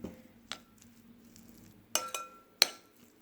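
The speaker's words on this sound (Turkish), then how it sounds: "Ve karıştırıyoruz." A spoon stirring crumbled cake with milk in a bowl, giving a few light clinks and scrapes against the bowl, quiet and close, with soft sharp taps spaced irregularly and no talk.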